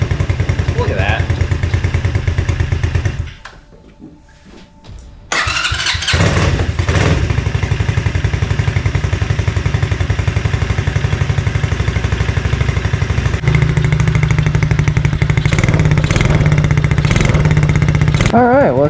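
A revived $50 mini quad bike engine runs loud and close, dropping out briefly before restarting and then settling into a steady warming-up idle with occasional revs.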